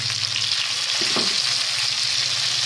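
Tomato frying in a pan while cooking odong, a close, steady sizzle with a brief stirring scrape in the middle, continuous and loud with no talking.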